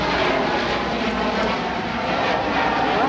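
An airplane passes overhead with a loud, steady engine roar that fills the whole stretch without a break.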